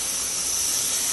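A pressure cooker whistling while elephant foot yam cooks on the stove, giving a steady, loud, high hiss of escaping steam that holds without a break.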